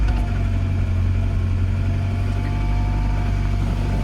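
An LS-swapped 1947 Ford truck engine runs at a steady idle, a low, continuous rumble heard up close.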